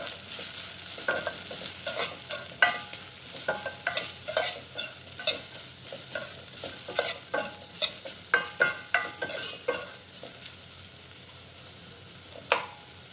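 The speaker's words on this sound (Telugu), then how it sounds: "అన్నీ యాడ్ చేసుకొని ఒకసారి కలుపుకోవాలి." Upma ingredients being stirred in a frying pan, a steady run of rhythmic scraping spoon strokes over a light sizzle, close and fairly loud, with no voices.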